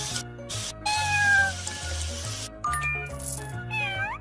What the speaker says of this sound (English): Oh, poor Kitty!